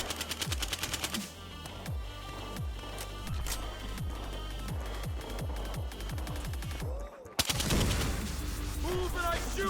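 An M110K5 battle rifle fired in Battlefield Hardline, loud and close, heavy shots in rapid bursts and a steady string, a brief gap, then one sharp blast and echoing combat noise.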